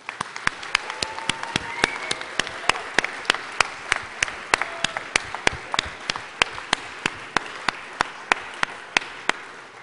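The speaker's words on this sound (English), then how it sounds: "I'd like to give all of them a round of applause" A crowd at an awards ceremony for innovation in learning applauds steadily throughout, many hands clapping in a dense, even patter that carries on without a break.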